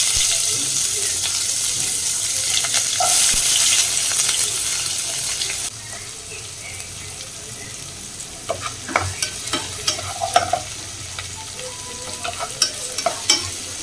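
Onions frying in hot oil with crackled cumin, stirred in a pan; a loud, even sizzle fills the first part, then drops to a softer frying hiss punctuated by scattered scraping and clinking stirs.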